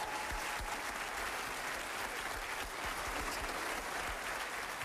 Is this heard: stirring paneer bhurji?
no